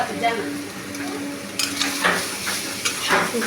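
Fish roe with tomato, salt and dried chili powder fries in a pan, a close sizzle broken by scraping spatula strokes and light utensil clinks, with no talk.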